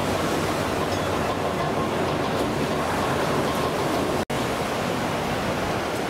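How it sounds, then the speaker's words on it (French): Ocean surf at Biarritz beach on the French Basque coast, heard as a steady, dense roar of breaking water with no clear surges, cut by one very brief dropout near the end. "Les vagues sont trop molles aujourd'hui pour faire du surf."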